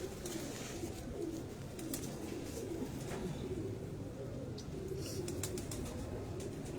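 A female pigeon cooing in low repeated murmurs over a steady noisy background, with several birds faintly audible and no speech.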